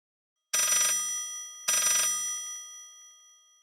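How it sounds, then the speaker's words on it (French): A telephone bell rings twice, each burst a bright metallic trill followed by a fading ring, with silence before and between. "La sonnerie du téléphone le sortit de sa léthargie."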